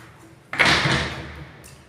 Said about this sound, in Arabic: ده باب الحمام اهوت.